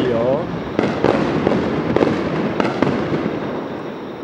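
Repeated fireworks bursts from a large starmine display crackle and pop at irregular intervals over a dense background roar of a crowd at a rural Japanese fireworks festival, with a voice briefly audible at the start.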